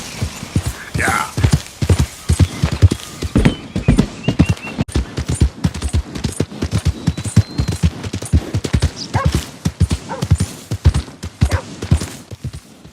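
Horse hooves clip-clop in a video game, a brisk and evenly paced run of close, loud hoofbeats that carries on throughout.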